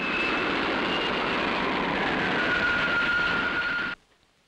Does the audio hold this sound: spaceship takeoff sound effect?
yes